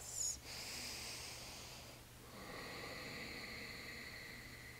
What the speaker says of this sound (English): A few big breaths.